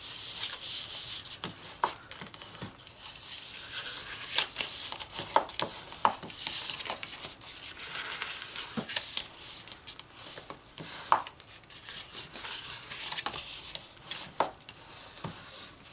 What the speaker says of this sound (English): Fold and burnish all of the straight lines.